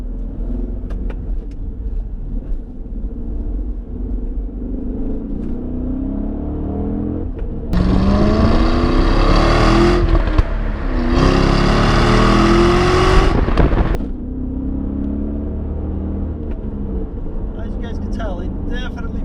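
A 2004 Cadillac CTS-V accelerates hard in two loud surges of engine roar with a brief lift between them, framed by quieter cabin rumble before and after.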